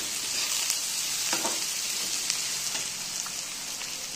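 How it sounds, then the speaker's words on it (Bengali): Onion frying with whole garam masala in hot oil gives a steady, close hiss of sizzling that runs through the whole moment, with a few soft stirring scrapes near the middle. "এরপর দিয়ে দেব পেঁয়াজ।"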